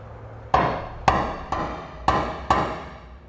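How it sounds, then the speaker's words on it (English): A hammer strikes a steel punch to mark a spot on the bed of a 2017 Ram 3500 pickup during a fifth wheel hitch install: five sharp, ringing blows at a steady, unhurried pace, close and loud. "we'll just line up where we made our mark with the punch."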